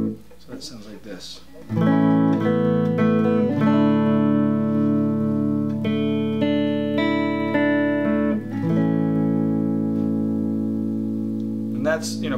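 Guitar picking the verse of a song, individual strings plucked in sequence and left ringing into sustained chords, clear and close.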